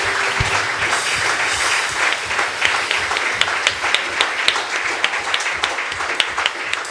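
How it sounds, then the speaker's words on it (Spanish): A church congregation applauds the Lord, steady loud clapping with sharp individual claps standing out, continuing throughout with no speech. "Dan un aplauso al Señor"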